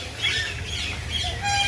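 Birds squawk and chirp in a Bird World aviary in Kuranda, several calls overlapping close by in a busy, lively chorus.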